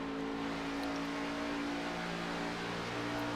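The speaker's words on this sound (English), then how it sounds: "you hear the lift of the throttle right there as the engine starts to settle on down" An onboard race car engine drones steadily at high revs as the driver lifts off the throttle into a corner at Charlotte, a continuous loud close engine note with no talk.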